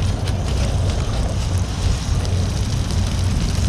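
Wind buffets the microphone out on a fishing boat at sea, a steady low roaring rush that holds without pause, close and fairly loud, with no talking.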